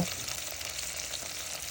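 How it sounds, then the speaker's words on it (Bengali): Onion, garlic, ginger, tomato and green chili fry in hot oil in a pot, giving a steady, dense sizzle heard close up. "তেল গরম হয়ে আসলে তার উপরে পেঁয়াজ, রসুন, আদা, টমেটো, কাঁচামরিচ এগুলা একটু ব্রাউন করে ভেজে নেব"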